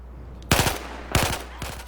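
A mounted gun firing in Battlefield 4 on the Dam map: three loud, short bursts of rapid shots about half a second apart, with a low steady hum underneath.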